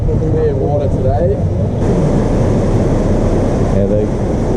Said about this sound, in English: that's the other boat come up to the island